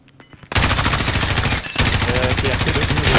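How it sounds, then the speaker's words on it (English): Sustained automatic gunfire in a shooter video game, loud and close, hammers continuously after a brief quiet start, with a short dip midway and voices underneath. "Yeah, taking fire on the ground."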